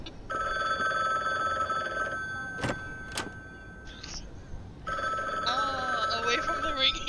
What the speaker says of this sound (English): I'm not answering the dang phone.